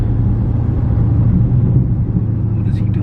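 Steady deep, throaty engine rumble from a Dodge Charger Scat Pack fitted with a new JLT cold air intake, droning close and continuous at an even level throughout.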